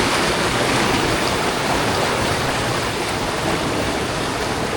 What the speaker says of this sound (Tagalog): Ang lakas ng tubig, parang palakas ng palakas.